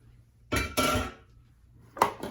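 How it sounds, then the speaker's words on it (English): Scraper dragging flour and pizza dough out of a mixing bowl, a few short rough scraping strokes with pauses between, close and fairly loud. "Scraping out everything from that bowl."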